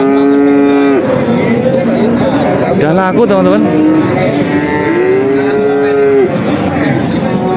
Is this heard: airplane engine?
no